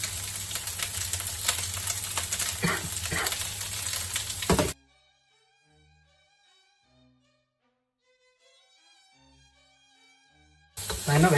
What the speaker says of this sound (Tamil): அந்த வறுபடுற சத்தம் ஒன்று கேட்கும்